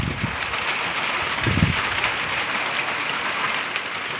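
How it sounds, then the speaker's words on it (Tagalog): Heavy rain pours steadily after garden pruning, a dense continuous hiss with a few low gusty thumps, close and fairly loud with no talk. "kanina naman maliwanag naman ng panahon pero umulan pa rin at ito yung ito pa yata yung ulan na"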